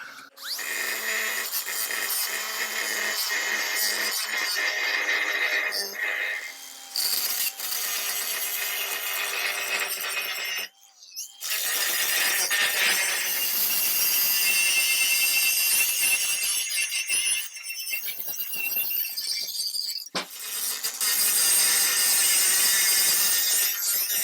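Loud, continuous high-pitched grinding of a hard disc against metal on a torsion bar cross member, shifting in tone as pressure changes, with a brief pause partway through.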